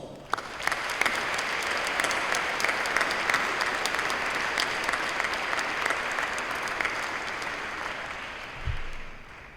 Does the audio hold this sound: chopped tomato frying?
no